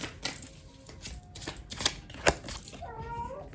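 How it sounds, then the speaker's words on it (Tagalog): A house cat makes noise in the background indoors, with scattered scratching and tapping sounds and a short, wavering meow-like call near the end. "merong maingay sa background. Yan po yung pusa ko."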